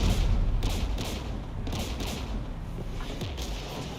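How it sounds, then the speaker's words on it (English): Gunfire in the video game Mass Effect 3, a dense continuous barrage of shots and booms with loud repeated bursts over constant rumbling battle noise. "We're taking fire."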